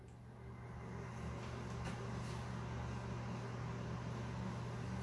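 Steady low hum and airy whoosh of a WEN 3410 air filtration system fan running, constant and faint, with a slight low drone underneath.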